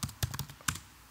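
A few quick keystrokes on a computer keyboard as an Azure command-line login command is typed, short uneven clicks and taps close to the microphone with no voices.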